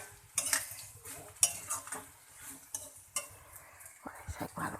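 A spatula stirs and scrapes kalai saag greens and vegetables frying in a karahi, giving irregular metallic clinks and scrapes over a faint sizzle, close and fairly quiet.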